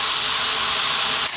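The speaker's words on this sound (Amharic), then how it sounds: "ቅቤ አሁን ነው የምጠብሰው አብሬ" Butter frying in a pan for Ethiopian minchet alicha wot, a steady, close sizzling hiss that holds even and unbroken for just over a second.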